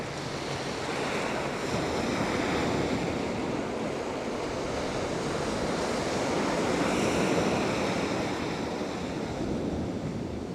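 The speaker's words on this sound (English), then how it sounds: "Not a lot of splashes, but nonetheless quite decent waves." Sea waves break on the shore at Felixstowe in near-gale winds, a continuous loud roar of surf and rushing wind with gentle swells in intensity and no voices.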